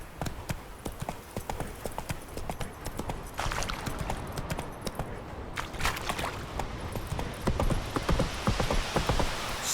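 Horse hooves clip-clopping at a steady brisk pace in The Witcher III, a continuous run of close, sharp hoof strikes over ambient game background, with no talk.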